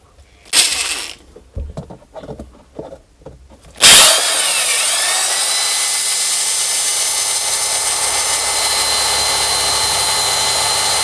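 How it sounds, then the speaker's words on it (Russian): An electric drill bores straight through a car's rear plastic fender liner. A few seconds of scattered handling knocks come first, then the motor starts with a loud, steady whine that runs unbroken to the end. "Здесь я просверлил дрелью насквозь."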